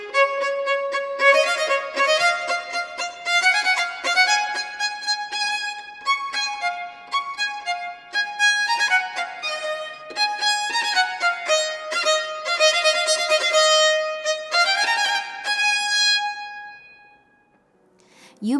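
La Réjouissance from Handel's Royal Fireworks Music is performed as a lively, bright orchestral passage with brisk rhythmic phrases, playing loud and continuous before fading near the end.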